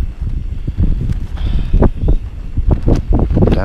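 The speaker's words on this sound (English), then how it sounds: "That wind is terrible" Gusty wind batters the microphone outdoors at a campsite near Haugastøl, with uneven buffeting bursts and rustling close by; no talking.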